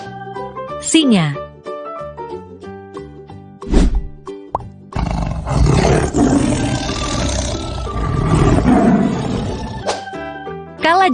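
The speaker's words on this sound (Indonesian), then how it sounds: "Singa." A lion roars in a long, loud, rumbling burst at close range, set among cartoonish sound effects and short musical tones.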